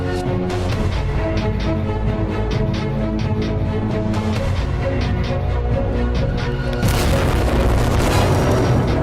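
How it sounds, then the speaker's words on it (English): A bomb goes off in the video game Dragon Fin Soup: a dense, loud, continuous roar with repeated sharp bursts layered through it, then a bright swell near the end, with no voices. "did I drop the bomb there?"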